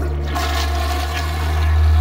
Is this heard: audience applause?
no